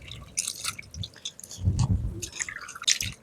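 Quail meat is washed by hand in water outdoors for a village-style quail fry, making close, irregular drips, splashes and squishy sloshing, heard alone.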